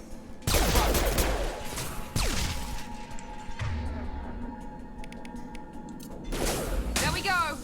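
Shotgun blasts in the Mass Effect Legendary Edition video game: several loud, sharp bursts with whooshes and crashing impacts between them, and a voice talking in the mix.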